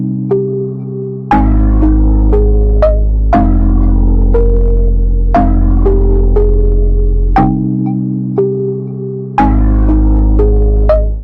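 A music loop generated by the SPAWN VST plugin, with a pulsing deep bass and repeating melodic synth plucks over a steady rhythm, loud and continuous with no talk.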